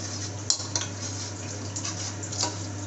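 Masala and pepper stirred in a pan for a paneer roll filling: a steady hiss under a low hum, with a few spoon clinks and scrapes against the metal.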